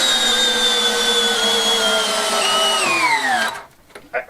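A power drill drives a lag bolt into courtyard timber, its loud motor whine steady and then bogging down in pitch before cutting off abruptly, followed by a couple of faint knocks.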